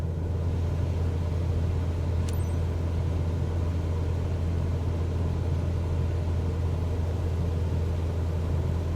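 Cessna 172 light aircraft in Microsoft Flight Simulator rolling for takeoff, a steady loud low engine drone with constant rumble throughout, no talking.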